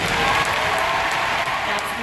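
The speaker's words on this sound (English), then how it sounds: "Please give my customers a big round of applause." Dense, steady clapping from an audience at a 2015 sales seminar, a brief burst of applause without pauses.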